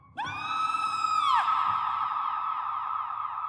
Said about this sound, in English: Suddenly she heard a woman's scream